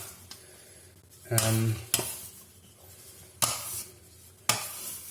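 Sticky bread dough scraped around a counter in circles while being shaped, giving loud broadband scraping bursts in separate strokes with quieter gaps between them.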